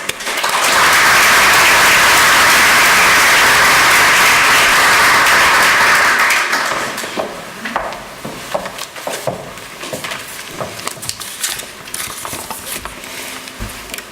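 Audience applause welcoming Dr. Peter-André Alt, president of Freie Universität, at a Jusoor Berlin welcome address. Dense, steady clapping fills a large hall for about six seconds, then thins to scattered claps and room noise.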